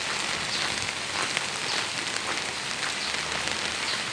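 Steady rain pours down on a wet morning near a small neighborhood market, a dense, even hiss with scattered drop patter that holds loud and unbroken throughout, with no voices.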